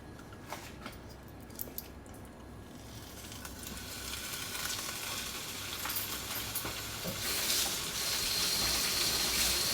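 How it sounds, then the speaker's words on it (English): Bacon sizzles and crackles in a frying pan, a continuous hiss that grows louder over the clip, with scattered small pops. "Now you can hear that the bacon is sizzling."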